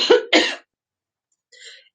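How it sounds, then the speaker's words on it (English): A woman coughs twice in quick succession, close and fairly loud, then falls silent before a faint, breathy follow-up sound near the end. "I'm going to start to cough now."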